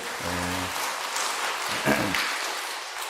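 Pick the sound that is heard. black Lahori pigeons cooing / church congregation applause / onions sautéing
church congregation applause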